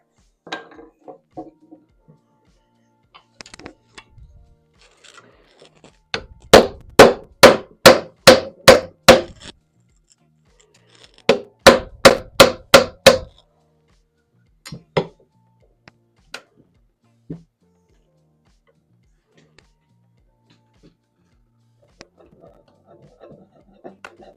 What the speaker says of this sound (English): just tapping it with the hammer, she's loosening out